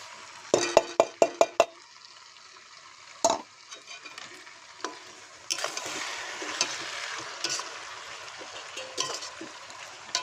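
Grated paneer dropped into a pan and frying, starting with a quick run of sharp metallic clinks, then a spatula knock and scraping stirs over a soft sizzle, with no talking.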